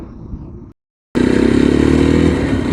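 A Yezdi motorcycle on a ride, its engine droning loud and close; the rumble cuts out briefly, then returns as a strong steady throb with wind roar.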